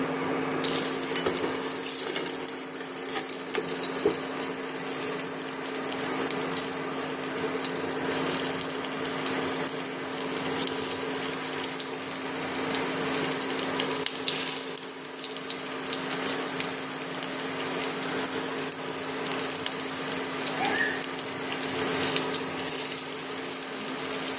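Vadi fritters deep frying in hot oil over a low flame, a continuous even bubbling hiss with a faint steady hum beneath it, and no one speaking.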